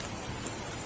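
Steady rain pattering and hissing on a surface, an even wash of drops with no break and no voices.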